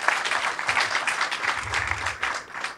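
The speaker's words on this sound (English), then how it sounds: "give them a round of applause" A crowd at a ribbon cutting for a senior living community in Romeoville applauds department heads, a steady, fairly close round of clapping that briefly dips near the end.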